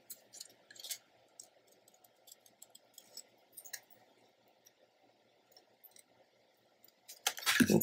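Scissors snip around a butterfly shape cut from a paper piece: sparse, close, soft cutting clicks and rustles with gaps between, followed by a louder burst of paper handling at the end.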